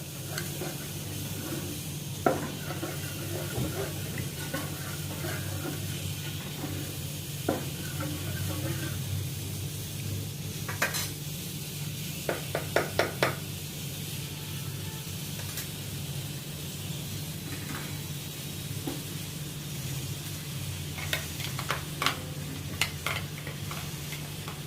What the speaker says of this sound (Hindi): इनको भी अभी सब मैं सौते करती हूँ ऑयल में, ताकि सबका कच्चापन निकल जाए।